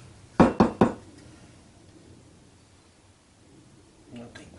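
Three quick, sharp knocks on a wooden coffee table joint to clear out sawdust, close and loud, followed by quiet room tone and a faint shuffle at the end.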